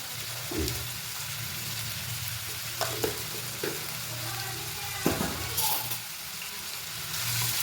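Onions roasting in hot oil in a pan with a little salt, for hotel-style egg dum biryani: a steady close sizzle throughout, broken by a few brief scraping stirs and clinks.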